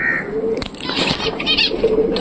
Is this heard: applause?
no